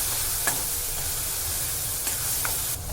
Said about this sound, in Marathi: सर्व व्यवस्थित मिक्स करून घ्यायचं आहे